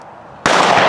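A single loud shotgun blast fired at a sporting clays range, bursting suddenly out of a quiet background and ringing on to the end.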